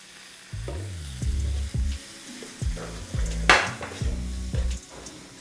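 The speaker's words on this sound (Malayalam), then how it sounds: "ഇനി ഇച്ചിരി വെള്ളം ഒഴിച്ച് ഈ മസാല ഒന്ന് ചൂടാക്കിയെടുക്കാം" Masala thinned with a splash of water sizzles in a hot pan while a spoon scrapes and stirs it in repeated rhythmic strokes, close and fairly loud, for a corn pepper fry.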